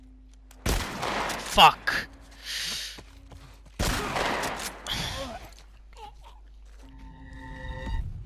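Shotgun blasts in The Last of Us Part I, a few loud sharp bangs spread across the moment, with a man's sudden exclamation and breathing between shots.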